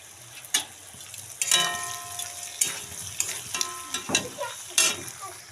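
Carrots and beans frying in a pan with peas about to be added, giving crackling sizzle bursts and sharp ticks of stirring at irregular intervals, close and fairly loud.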